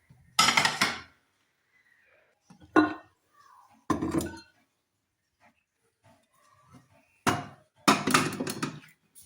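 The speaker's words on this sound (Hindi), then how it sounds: "इस बर्तनों को सेट करना है।" Pots and dishes being stacked and arranged on shelves in a home kitchen during cleanup, with several separate clattering bursts of metal and ceramic, close and fairly loud, separated by quiet gaps.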